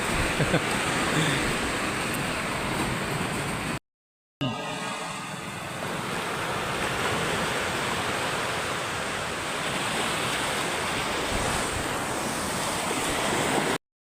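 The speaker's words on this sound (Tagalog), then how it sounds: "Malakas ang alon, malaki ang tubig." Heavy surf roars continuously, a dense, loud wash of breaking waves close by, with a brief cut in the middle.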